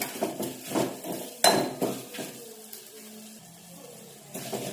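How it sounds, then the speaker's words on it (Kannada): Chili powder fried and stirred in a pan for plain rasam, heard as repeated clattering scrapes and knocks of a utensil against the pan, near and moderately loud, with one sharp clank and no talking. "ಮೆಣಸಿನ ಪುಡಿನ ಹಾಕ್ಕೊಳ್ಳಿ. ಅದು ಸ್ವಲ್ಪ ನೀಟಾಗಿ ಫ್ರೈ ಮಾಡ್ಕೊಳ್ಳಿ."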